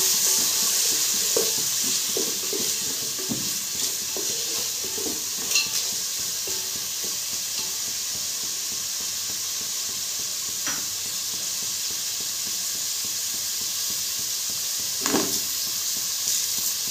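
Onions fry in a pan for biryani with green peas and prawns, giving a steady sizzle broken by occasional scrapes and clinks from stirring.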